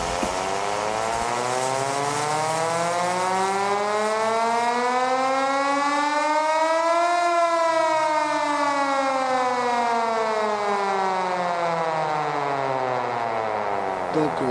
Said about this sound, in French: cette sirène là, elle sonnait pour la prise de poste des mineurs